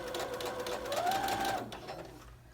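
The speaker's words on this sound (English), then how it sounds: "keep sewing at 3/8 of an inch seam" Sewing machine stitching a seam on a wrap coat, a steady fast mechanical whir running close and clear, slowing and stopping near the end of the stretch.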